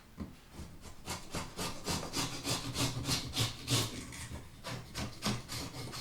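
A sharp-bladed wallpaper scraper rasps repeatedly across stubborn wallpaper, gouging into the plaster beneath in quick, rhythmic scraping strokes, close and moderately quiet with no voices.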